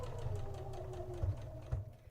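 A sewing machine runs back and forth stitching green rickrack trim onto fabric for a ruffle, a close, even mechanical whirr with a couple of brief surges, no voices.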